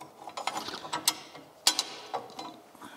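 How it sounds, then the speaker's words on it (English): A ratchet wrench bolts down an extra support for new side steps on an old rusty vehicle, giving a run of quick, close metallic clicks in uneven bursts with a couple of sharper snaps. "I'm just going to bolt it down"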